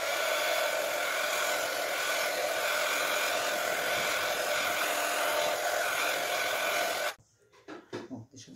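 A hair dryer blows on wet paint coating an MDF box, a loud, steady close-up whoosh lasting about seven seconds before it abruptly switches off, leaving faint handling noises.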